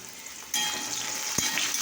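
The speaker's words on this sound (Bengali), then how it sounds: "তো দেখো এটা করলাটা ভাজা হয়ে গেল।" Sliced bitter gourd fries in hot oil in a pan, with a soft, steady sizzle that starts abruptly and carries on quietly, broken once by a brief clink.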